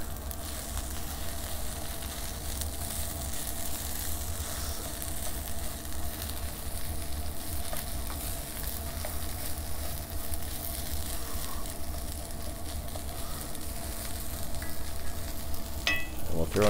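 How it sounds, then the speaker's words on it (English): Breakfast sausage with salt and pepper in a skillet sizzles steadily and evenly, with faint stirring now and then and a few utensil taps near the end. "Start to stir that all together."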